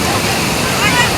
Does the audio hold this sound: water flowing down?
yes